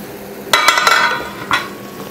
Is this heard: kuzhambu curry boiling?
yes